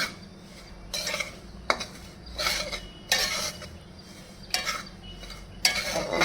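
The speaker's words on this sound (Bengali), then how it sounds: "এই দেখো এবার একটু নেড়ে চেড়ে নিই" Semolina is stirred in a pan for gulab jamun, with a spoon scraping in regular bursts about once a second over a quiet background.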